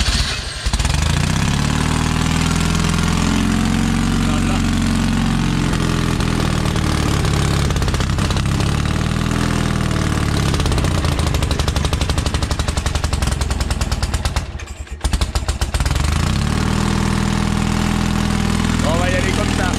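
Citroën 2CV engine pull-started by rope, catching and settling into a steady loud idle with an even rumbling chug, briefly dropping out midway before resuming.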